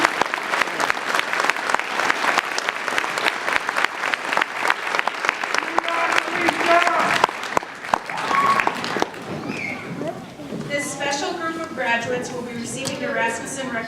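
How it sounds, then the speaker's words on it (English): Audience applause fills a college graduation ceremony for around nine seconds, steady and crowded with sharp individual claps, then dies away as a speaker's voice takes over. "Let's give them all a round of applause, shall we?"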